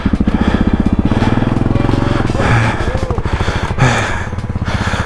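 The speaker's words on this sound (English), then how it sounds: "that's how you get a KLR out of a mud hole" Kawasaki KLR motorcycle engine revving hard as the bike pulls out of a mud hole, a loud, close, pulsing chug that surges and strains throughout.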